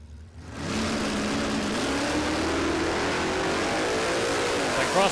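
A hot rod drag car launches down the strip at Warwick Dragway, Australia, its engine roaring loudly and climbing steadily in pitch as it accelerates away.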